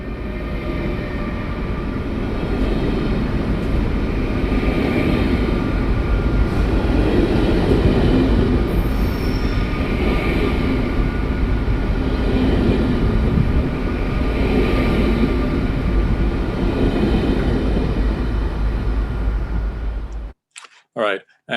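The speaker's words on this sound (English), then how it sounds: "the passing train starts" A train passes at close range, a continuous rumbling roar with periodic swells of wheel and carriage noise rolling by, ending abruptly.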